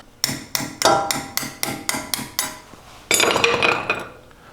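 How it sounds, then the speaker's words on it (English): A dust cap is knocked off the wheel hub of a lifted Toyota with about nine sharp metallic taps in steady succession, close and loud, followed by a brief clattering scrape as it comes free. "First thing we're going to do is take the dust cap off the hub."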